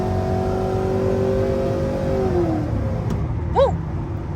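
A cammed GMC Sierra truck with a loud exhaust accelerates, its engine note rising and then easing off, followed by a short vocal whoop near the end.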